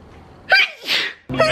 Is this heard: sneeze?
yes